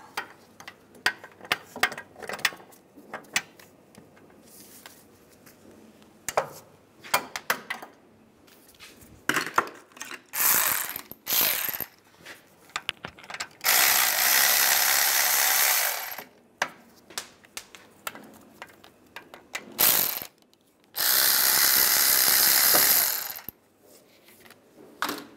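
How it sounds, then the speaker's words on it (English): A ratchet with a 15 mm socket works loose the caliper and bracket bolts on a 1995–2001 Ford Explorer front brake, giving bursts of rapid clicking and several longer sustained runs, close and loud, with pauses between. "Using a 15 millimeter socket, we're going to take the caliper and the bracket off together."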